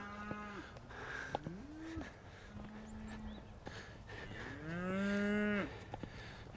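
Cattle mooing in a field, several separate drawn-out lows of varying pitch, one louder and longer call near the end, over faint outdoor background.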